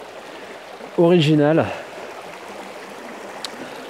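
An autumn river on a stone-walled stretch rushes in a steady broadband wash, near and continuous, with a voice speaking briefly over it early on.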